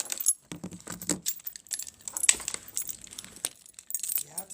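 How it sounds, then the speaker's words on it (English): Keys jangling and clinking close by in several short, irregular bursts of metallic rattling, fairly quiet, with brief pauses between shakes and no talk. "Getting the keys."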